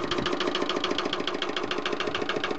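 An all-original Lister LR diesel stationary engine with a cast iron exhaust runs steadily close by, a loud, even, rapid chugging with regular firing beats throughout and no talk.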